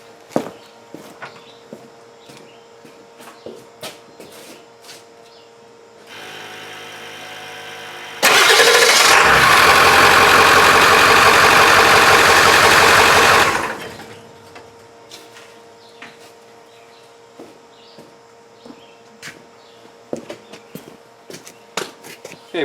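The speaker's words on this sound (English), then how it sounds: "when you want to turn wheels on a Ford like this, make sure you start the vehicle" A 2000 Ford F350 4x4 pickup engine starts, then revs loudly for several seconds before settling to a quieter idle, with clicks and small shop noises scattered around it and no talking.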